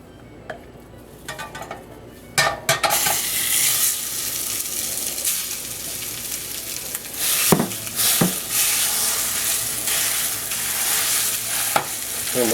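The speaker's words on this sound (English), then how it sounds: "And we're just going to fry this up." Ground beef sizzles in olive oil in a pan for lasagna, a loud continuous frying hiss broken by clattering stirs and scrapes of a spoon against the pan.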